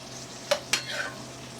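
Shrimp sautéing in a pan, a soft continuous sizzle broken by two quick utensil clinks against the pan, brief and close with no talking.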